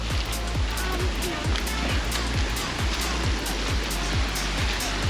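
Waterfall pouring into ponds, a steady full rushing roar of water that stays constant and loud, with faint rhythmic thumps beneath it.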